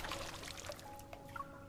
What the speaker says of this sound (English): Water flows into the tub as it soaks Xavier's clothes